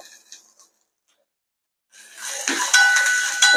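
Chopped amaranth stalks sautéing with onion in a pan: a brief scrape, a pause, then a rising, steady sizzle with clinks of stirring, close and fairly loud.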